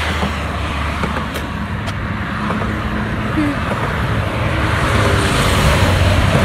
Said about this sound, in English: You know, the sound of the traffic,